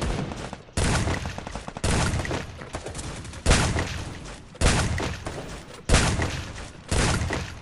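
Heavy bursts of gunfire in the shooter game Free Fire, about seven loud blasts spaced roughly a second apart, each with a short rattling decay, close and alone without talk.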